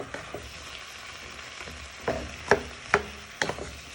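Vegetables for chilli chicken fry in a pan with a soft, continuous sizzle, then several sharp scraping stir strokes come close together near the end.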